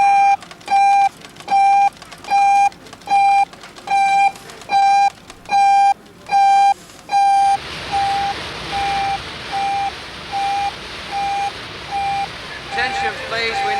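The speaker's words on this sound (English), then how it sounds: "we now have a low-level gas alarm from D3C" Low-level gas alarm on a North Sea oil rig in 1980: a loud electronic tone pulsing in a steady on-off rhythm, first in clean separate bursts, then continuing as quicker, shorter beeps over a rushing background of machinery noise.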